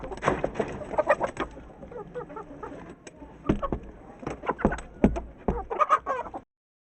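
Roosters and hens on a farm cluck and crow in bursts, fairly close, with scuffling and fowl calls overlapping through most of the stretch before it cuts off.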